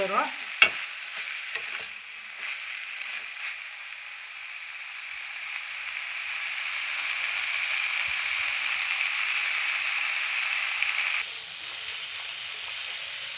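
Spinach wilting and sizzling in a pan while being stirred, a steady frying hiss with a few scraping stirs near the start, fairly close and continuous.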